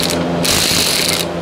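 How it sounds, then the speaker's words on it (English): Electric ratchet with a 3/8 swivel and 14mm socket working on a Toyota Camry during a rear brake job, a loud continuous mechanical whir lasting about a second, brightest in the middle, with no talk. "Electric ratchet, 3/8 swivel, 3/8"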